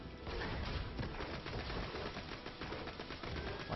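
Rapid gunfire from the Borderlands video game, with dense bursts of shots crackling almost continuously and at a fairly even level throughout.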